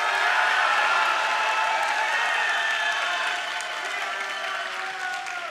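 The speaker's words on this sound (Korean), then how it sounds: "힘찬 박수 함성 시작" A big crowd at a church summer camp in Busan claps and cheers loudly and steadily. The dense roar of applause and shouting holds for the whole stretch and eases slightly near the end.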